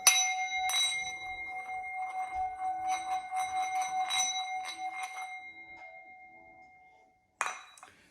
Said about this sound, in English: I'm gonna shut up now, play the sound bowls